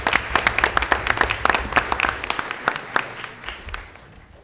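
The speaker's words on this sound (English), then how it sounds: "how about we give her a round of applause for Ms. Mallarney." A small crowd at a school board of education meeting claps steadily for a few seconds, the applause thinning and fading toward the end.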